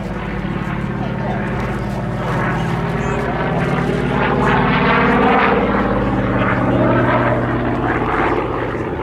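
A Goodyear Corsair propeller fighter coming in to land at an air show, a loud continuous droning engine roar that swells slightly midway, with a commentator speaking over it.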